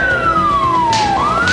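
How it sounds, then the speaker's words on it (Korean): Wailing siren sweeps loudly across a military police training ground, its pitch gliding steadily down before rising again, continuous and close with no talk. "훈련장을 가로지르는 사이렌 소리에 대원들의 동작이 심상찮다"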